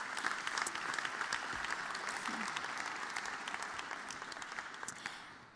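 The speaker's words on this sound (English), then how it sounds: "You can give them a round of applause." Conference audience applauding at an anniversary event in Berlin: dense, steady clapping from a large crowd across the whole stretch, fading slightly toward the end, with no talk over it.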